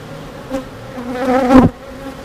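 Agitated honeybees buzz loudly and close by at an opened hive during an inspection, the drone rising and swelling before cutting off.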